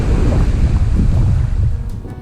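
Surf rolls on sandy La Vera Beach in Grenada as a loud, low, rushing wash mixed with heavy wind buffeting the microphone, continuous throughout the short stretch.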